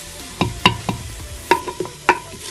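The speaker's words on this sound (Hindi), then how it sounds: "देखिए जी 5 मिनट तक हमने इसकी ज़बरदस्त सी भुनाई की है अदरक लहसुन डाल के।" Ginger garlic paste frying for chicken korma, with a soft sizzle under a handful of sharp, irregular clinks and scrapes from a spoon stirring against the pot.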